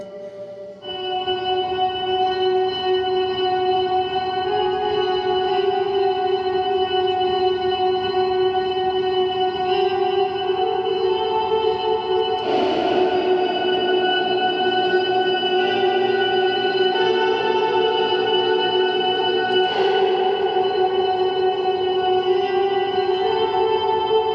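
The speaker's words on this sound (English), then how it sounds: "I think there's some extra haunting voice in this reverb" Sustained, shimmering guitar tones wash through a Death By Audio Rooms reverb pedal with an eerie, haunting voice-like layer. The drone holds loud and steady, with swelling new notes at two points, and no talking.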